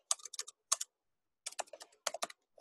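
Quick bursts of typing on a computer keyboard, clusters of crisp key clicks separated by a short pause, close and fairly quiet.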